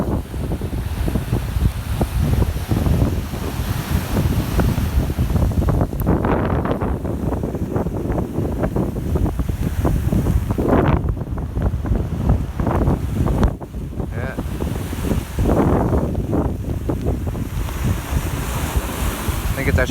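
Stormy surf crashes against shore rocks under strong gusting wind in wet Western Australian weather, a loud continuous roar of breaking waves and buffeting wind noise on the microphone.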